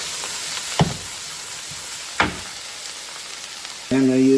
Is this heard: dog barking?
no